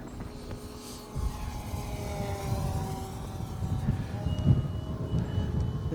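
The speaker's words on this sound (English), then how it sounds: "It's a really snazzy plane to fly." A Magic Bird electric pylon racer RC plane flies overhead with a steady, droning motor whine that rises and falls in pitch as it passes, growing a little louder toward the end, with no voices.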